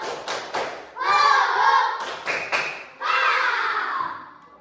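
A classroom of children performs a rhythmic spirit clap, quick bursts of sharp claps alternating with loud group chanting, repeated twice in a brisk pattern.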